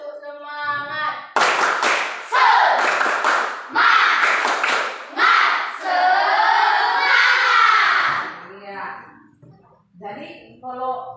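A classroom of children does a rhythmic spirit clap (tepuk semangat), bursts of hand claps with loud shouted chanting in between, with a teacher's voice at the start and end.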